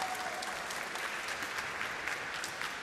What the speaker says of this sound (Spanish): Aplausos para Nicolás